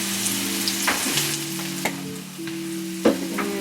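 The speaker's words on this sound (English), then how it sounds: "I'm going to let that cook down and simmer a little bit" Collard greens seasoned with onion powder sizzle steadily in a pan while they cook down, with a few sharp scrapes and clacks of stirring breaking through the even crackle. No one speaks.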